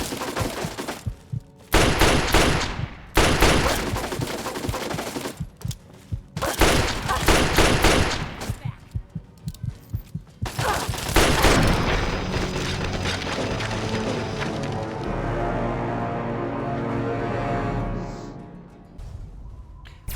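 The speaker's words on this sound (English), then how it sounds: "Don't use the 32 caliber pistol." Repeated gunfire from a .32 caliber pistol in the video game Fallout 3, loud close bursts of shots in clusters with short pauses, then a fading crackling tail.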